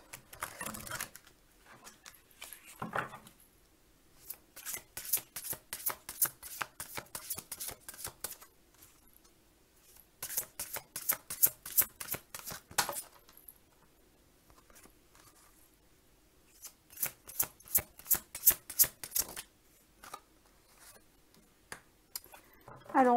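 Playing cards are shuffled for a tarot-style reading in repeated bursts of quick riffling clicks, separated by quiet pauses, close and fairly soft, with no talking.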